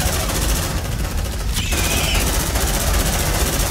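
Rapid automatic gunfire from marines in the Aliens: Dark Descent video game rattles continuously and loudly throughout, dense bursts overlapping with no pause.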